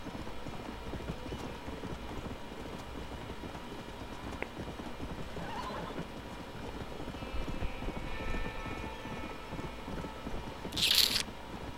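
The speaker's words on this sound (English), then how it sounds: "Let's go, Mr. Horsey" Horse hooves galloping in Red Dead Redemption, a steady rapid clip-clop of hooves on open ground, close and continuous, with faint ambient rumble and a brief high chirp near the end, with no speech.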